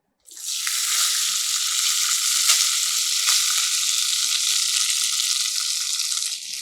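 Cooked rice tipped into a hot citron rice tempering, setting off a sudden loud, sustained hiss of frying that stays bright and steady before easing slightly at the end, close by.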